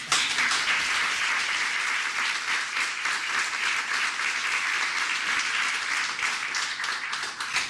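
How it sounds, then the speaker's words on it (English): An audience at a guide dog school graduation ceremony applauding, a dense and sustained wash of clapping from many people that stays steady and loud throughout. "and again, you all deserve a round of applause"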